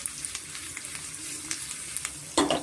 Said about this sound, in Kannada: ಮೆಣಸಿನ್ಕಾಯಿ ನಾನು ಫ್ರೈ ಮಾಡ್ಕೊತೀನಿ ಮತ್ತು ಬೆಳ್ಳುಳ್ಳಿ